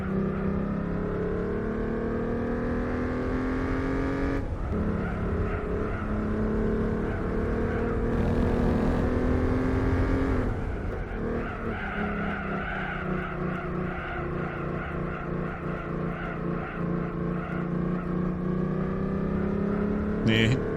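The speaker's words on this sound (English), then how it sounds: "You heard then how the car just wasn't accelerating." Sports car engine from Gran Turismo 4 revving steadily and loud throughout, pitch shifting with a brief sharp change midway, struggling to accelerate on sports tyres, with a voice talking over it.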